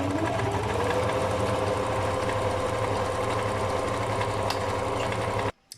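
A sewing machine stitches fabric for a portable changing mat, a steady close mechanical whirr with a fast repetitive rhythm that runs for about five seconds and then stops abruptly.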